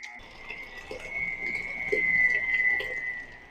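A constant high-pitched motor whine of an electric mixer running fast while mixing cheesecake batter, holding steady and fairly loud throughout, with faint clatter underneath.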